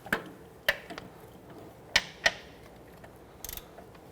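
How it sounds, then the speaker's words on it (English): A ratchet wrench tightens the bolts on a sway bar bushing of a 2006-2014 Honda Ridgeline, giving a few sharp, close clicks and metallic ticks spaced irregularly over quiet background, with no talking. "we'll go ahead and evenly tighten these down and bottom out the bolts"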